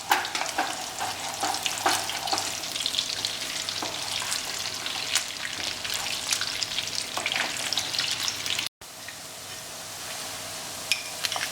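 Mutton sautéing in clarified ghee in a pan, a steady loud sizzle and crackle with occasional stirring scrapes, continuing without talk.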